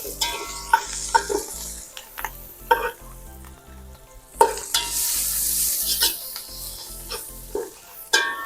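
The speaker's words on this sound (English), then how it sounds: "Now we're going to toss in our 5-spice powder, thyme, and garlic flakes, just for that to lightly toast as well." Five-spice powder, thyme, garlic flakes and mushrooms sizzle loudly in a hot pan for veggie lo mein, with repeated scraping stir strokes cutting through a steady frying hiss.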